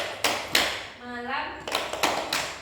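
Children at an orphanage clap along in a rhythmic chant, a few separate sharp claps spaced out between sung or spoken words, with a voice carrying the chant in the middle.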